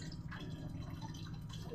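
Hot water dribbles and drips while being poured to make coffee, faint, scattered liquid plinks and trickles over a quiet indoor background, with no talking.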